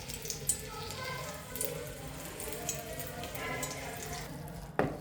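Round bhaji batter dropped into hot oil, a soft continuous frying hiss and bubbling, faint and close, with a sharp clatter near the end.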